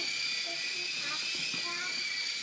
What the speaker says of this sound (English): You know how hard it is to control a helicopter that's spinning like that?